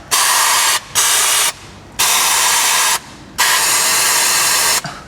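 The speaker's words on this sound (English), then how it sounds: "if you have some brake clean, just go ahead and spray the" Several loud bursts of brake cleaner spray onto bolts hiss close by, four main blasts separated by short pauses, with no talking.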